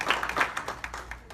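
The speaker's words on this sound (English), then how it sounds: "I think a round of applause for the memory of George Duke Majan" A short burst of scattered hand clapping from a crowd at a meet-and-greet in Palo Alto, moderately loud and fading out.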